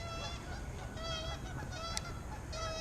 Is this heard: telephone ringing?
no